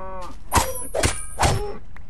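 Cows mooing in Minecraft, a video game: three short, loud low groaning moos at a steady pace, close by, with no one talking.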